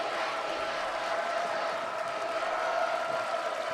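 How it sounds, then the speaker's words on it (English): Student sections of two high school basketball teams cheer in the cavernous Robinson Secondary School gym, a steady, echoing wash of crowd noise with scattered shouts and clapping, heard from a distance at moderate level. "What a crowd here. Both student sections out in full force for both teams at the cavernous Robinson Secondary School gym."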